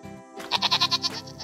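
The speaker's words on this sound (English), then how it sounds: "Pygmy Goat." A pygmy goat gives a single wavering bleat made of several quick pulses, fairly close and clear against a quiet background.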